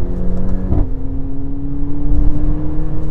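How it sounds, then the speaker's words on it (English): Mercedes CLA45 AMG four-cylinder engine in close, loud, steady droning that shifts pitch briefly early on, then settles into a constant tone, with no talk. "it's still a 4-cylinder engine at the end of the day"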